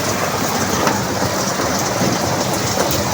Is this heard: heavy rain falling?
yes